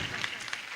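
Applause from an audience at a dance recital award ceremony, a brief burst of distant hand-clapping mixed with a voice talking over it.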